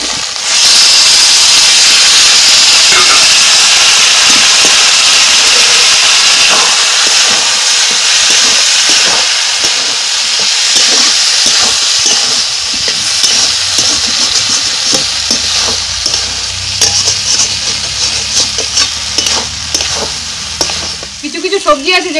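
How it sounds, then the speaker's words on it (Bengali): Pumpkin curry poured into sizzling fried rui fish fat, then stirred in the pan, a loud continuous frying hiss with scraping stir strokes, a low rumble joining toward the end. "এবার কুমড়োর তরকারিটা এর মধ্যে ঢেলে দেবো"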